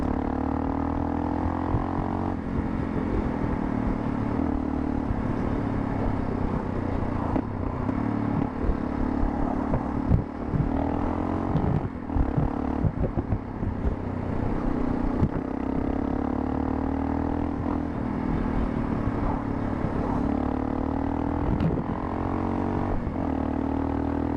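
Motorcycles ridden at a brisk, steady pace on a group touring trip near Birgi and Tire, with a continuous loud engine drone and wind rush running unbroken throughout.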